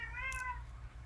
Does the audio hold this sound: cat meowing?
yes